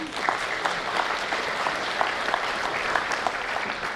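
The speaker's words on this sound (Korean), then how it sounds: "환영의 큰 박수를 다시 한번 보내주시기 바랍니다" Steady applause from the audience at the inauguration ceremony of Ha Seung-cheol as Hadong county governor, dense and continuous clapping at an even level throughout.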